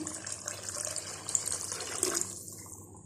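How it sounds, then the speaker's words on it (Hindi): Water is poured in a steady stream into a cooking pot of mutton pulao, about three cups for the rice, splashing for a couple of seconds before it stops abruptly; quiet and close, with no talk. "और साथ में ये 3 कप पानी और डाल रहे हैं राइस के लिए।"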